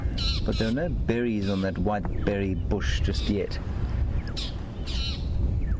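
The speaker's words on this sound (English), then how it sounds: "that squawking noise you can hear is some magpie shrikes who are alarm calling" Magpie shrikes give harsh, repeated squawking alarm calls in the African bush on a morning safari drive, loud and close with a rasping rhythm, while someone talks over the start.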